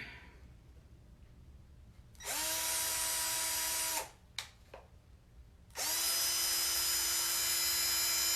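A power drill whines steadily for about two seconds, stops with a brief rattle, then starts again and runs at a steady high pitch.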